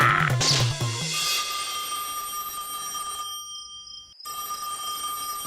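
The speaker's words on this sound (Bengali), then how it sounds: "একে ফোনটা ধরছে না কেন?" A phone ring tone sounds with sustained electronic tones after a brief musical jingle, cutting out briefly before resuming, fairly quiet and alone.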